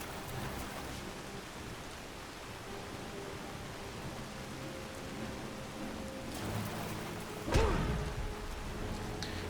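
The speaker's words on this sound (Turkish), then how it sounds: "Yağmur başlamış." Steady rain falls in the video game Skyrim, a soft continuous hiss of drops with a faint low rumble of distant thunder and a brief louder thump near the end, no talking.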